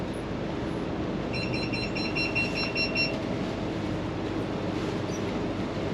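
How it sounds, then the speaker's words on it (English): A boat's hazard alarm beeps in a short regular series of high electronic tones, fairly faint over a steady low engine and water drone as the vessel approaches a bridge on a river near Chicago. "That alarm goes off every time we get to a bridge."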